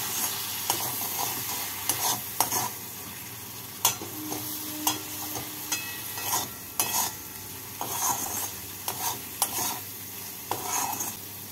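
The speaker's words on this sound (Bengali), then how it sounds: "জল দিয়ে মশলাগুলোকে পেঁয়াজের সাথে ভেজে নেব।" Spices with onion and a little water fry in a pan, giving a gentle sizzle under repeated, irregular scraping and tapping from stirring, with clicks of the utensil against the pan.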